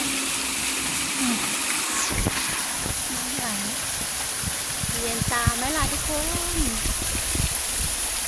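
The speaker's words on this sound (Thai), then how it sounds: "มีน้ำตกย่อมย่อม สวยจังๆสวยจริง ๆน้ำตกตรงนี้ก็สวย" A small waterfall flows at a Thai temple, Wat Saeng Kaew Phothiyan in Mae Suai, giving a steady broadband rush of water close by. Someone talks over it throughout.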